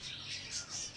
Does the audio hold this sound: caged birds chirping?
yes